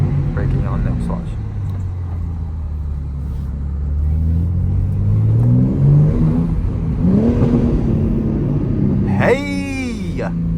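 A BMW M3 engine revs and accelerates in night city driving, a deep rising drone climbing in pitch, then a sharp higher rev burst near the end, loud and close with a voice talking over it.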